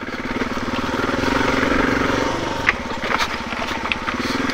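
A motorcycle engine idles steadily and somewhat fast from start to finish, close by and loud, with a continuous throbbing rumble and a few small clicks near the end.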